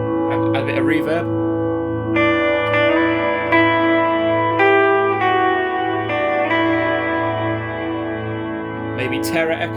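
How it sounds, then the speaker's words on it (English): Electric guitar played through a pedalboard with a reverb effect added via a Superego pedal, sustained chords and notes blooming into a long, washy tail that rings continuously. "add a bit of reverb"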